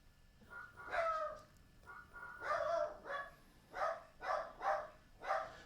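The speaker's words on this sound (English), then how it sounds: "There goes the dog because my wife's home" A dog barks indoors in a series of sharp, spaced yips, starting with a few separate barks and then a quicker run of four, loud and fairly close.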